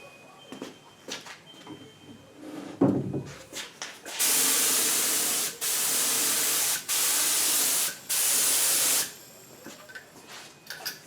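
Sanding sealer sprays from an aerosol can onto a cabinet in a workshop, several loud close hissing bursts of a few seconds each, separated by brief pauses, after quieter handling noises.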